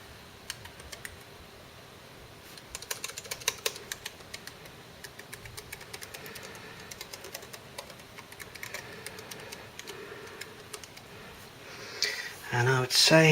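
Keys tapped on an HP G62 laptop keyboard during a key test in Notepad, irregular clicks in scattered bursts at moderate volume, ending in louder handling clatter.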